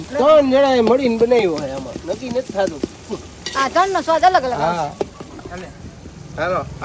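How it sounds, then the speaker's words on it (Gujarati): Panchmukhi olo, a brinjal dish, being stirred in a pan at an outdoor farm cookout in Rajkot: scraping and sizzling run under loud, continuous talking. "ધીમે ધીમે હલાવો હલાવો ભાઈ હલાવો"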